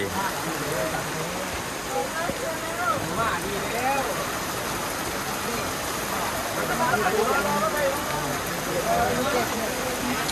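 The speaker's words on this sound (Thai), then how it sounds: "เดี๋ยวว่าฝนย้อยใส่โทรศัพท์" Steady rain patters and hisses across a surface, a constant wash of noise with voices murmuring faintly underneath.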